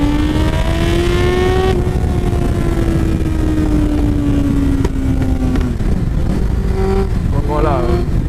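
A Yamaha Fazer 600 motorcycle accelerates with its engine note climbing and revving hard through the gears, loud and close over heavy wind rush, with a person talking over it.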